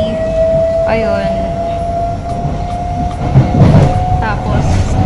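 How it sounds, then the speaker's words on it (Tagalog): An MRT train ride in Kuala Lumpur, Malaysia, is heard from inside the carriage, with a steady loud rumble and a sustained whine, and people talking under the noise. "Tapos nandito na kami sa MRT."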